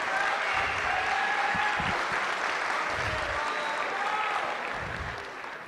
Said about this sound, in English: applause for not just all those scholarship winners.